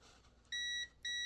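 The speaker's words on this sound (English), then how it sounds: "it beeps. So that's called continuity." Multimeter continuity tester beeping as its probes touch, two sharp high-pitched electronic tones each about a third of a second long, close and clear, no voices.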